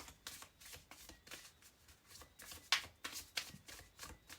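An oracle card deck in the Astral Realms line is shuffled in quick, soft riffling bursts, each pass a brief papery flutter, repeating steadily and quietly with no talk.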